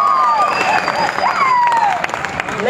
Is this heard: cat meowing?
no